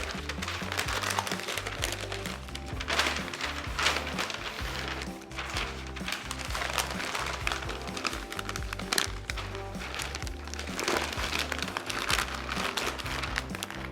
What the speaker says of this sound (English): I am using 2 sheets of butcher paper.